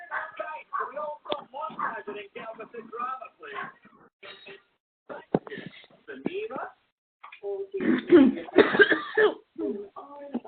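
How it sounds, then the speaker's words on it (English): Several short coughs and throat-clearing sounds are scattered among quiet talking voices nearby. "So we got a little cough."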